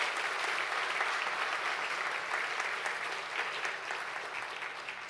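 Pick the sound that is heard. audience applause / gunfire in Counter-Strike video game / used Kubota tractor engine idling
audience applause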